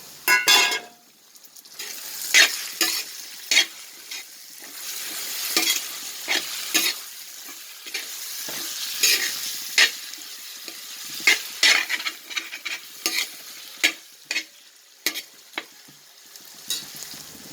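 Ground small onions and tomato frying in a pan with steady sizzling, punctuated by repeated sharp scrapes and clinks of a spoon stirring against the metal, close and fairly loud throughout.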